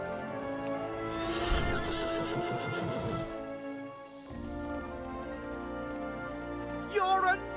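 A horse whinnies loudly while being ridden in World of Warcraft, its neigh rising over steady game music, followed later by a second short whinny near the end.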